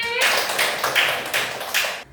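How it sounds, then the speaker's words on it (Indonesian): A short burst of children clapping together for a classmate in a classroom, a few uneven rhythmic claps over about two seconds, fairly close, ending abruptly. "Beri tepuk tangan untuk Fatir."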